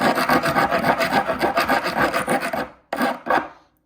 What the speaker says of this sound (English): I've got this rasp and I'm going to rasp these down a little bit